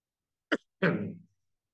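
A short, sharp cough from a man with flu, followed by a longer, rougher cough, close and fairly loud, with silence around them.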